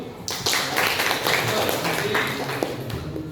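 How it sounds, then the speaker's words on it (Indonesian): A classroom audience claps together in a dense, even round of applause that lasts about three seconds, close and fairly loud. "Beri aplaus dulu."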